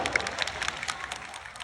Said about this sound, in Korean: 다시 한 번 박수 보내주세요